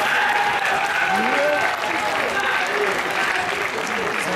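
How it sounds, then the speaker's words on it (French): Sustained applause from an audience at a Marcus vs Japan gaming tournament event, steady and fairly loud throughout, with French voices talking over it. "On applaudit bien fort Samy."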